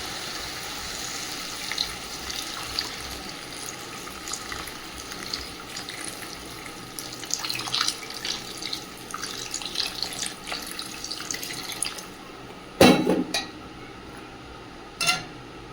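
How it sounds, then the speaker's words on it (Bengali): Water goes into a pan of frying ridge gourd and potato for a tengra fish curry, a soft splashing and sizzling hiss that runs steadily, with a couple of sharp clanks near the end. "এবার পরিমাণ মতন জল দিয়ে দেবো।"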